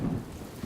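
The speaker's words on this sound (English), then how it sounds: "So the rain came with all its strength, and the streams overflowed." Heavy rain in a storm with low rumbling thunder, a brief dark roar that swells at the start and again at the end, with no voices.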